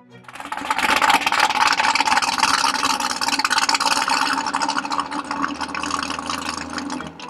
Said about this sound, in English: Now let's take a moment to just listen to that exhaust.